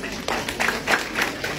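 An audience at a religious teaching session breaks into scattered, uneven clapping when asked, with a few bursts of hand claps over a short stretch amid faint room murmur.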